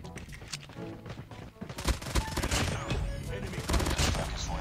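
Rapid bursts of gunfire in a shooter video game, with dense automatic volleys and single shots crackling over game audio, building louder through the second half.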